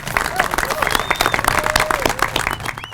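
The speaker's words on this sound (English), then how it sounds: "I would like to take this opportunity for a heartfelt round of applause for all veterans in" Steady, dense applause from a crowd honouring veterans at a Quincy event, with faint voices and calls mixed through the clapping until it fades at the very end.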